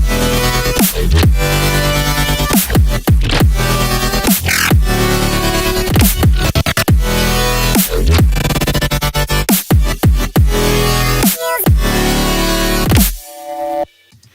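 Loud, dense electronic music with sidechain pumping from ShaperBox in Ableton, the level ducking and swelling on each beat, cutting off abruptly near the end.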